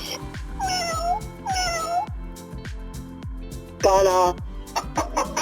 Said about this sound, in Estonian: Kass.